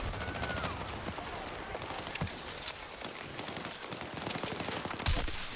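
Battlefield 6 gunfire: automatic weapons rattle almost without pause in dense bursts, with a few sharper, louder shots standing out.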